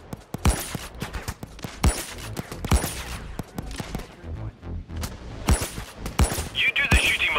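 Automatic and single gunshots crackle through a Payday 2 heist on Death Wish difficulty, with dense sharp bursts and some louder close shots over a busy background, broken by a short lull partway through.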